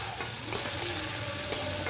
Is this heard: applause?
no